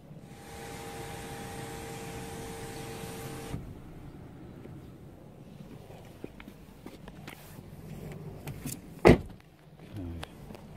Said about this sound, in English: This car's got panoramic roof also with electric blind.